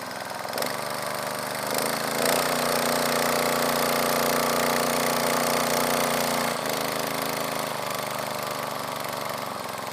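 A Mitsubishi engine-driven water pump running at low idle, a steady close mechanical drone with a brief rise and settle partway through, heard alone without talk.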